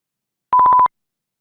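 A short burst of about six rapid, evenly spaced beeps at one steady pitch, loud and clean, with silence before and after.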